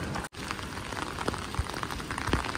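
Rain falling in a rural village in Lamjung, Nepal, a dense close patter of drops hitting surfaces with scattered louder splats, steady throughout apart from a momentary cut near the start.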